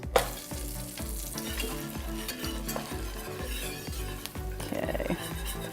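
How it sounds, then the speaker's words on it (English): A whisk scrapes in a quick, regular rhythm through flour frying in hot oil for a gumbo roux, the pan sizzling softly underneath the steady stirring strokes, nearby and without any talking. "And you just got to keep whisking and whisking and whisking."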